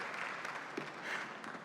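Audience at a conference talk applauding to welcome a guest, a faint, steady patter of clapping from a distant crowd, brief and continuous.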